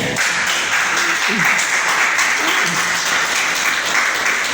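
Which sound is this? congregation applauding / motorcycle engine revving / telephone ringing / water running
congregation applauding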